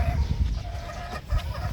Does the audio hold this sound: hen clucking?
yes